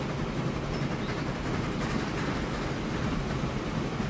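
A train running in the Transport Fever 2 game, a continuous rumbling rail roar with faint clatter, steady and dense throughout with no talking.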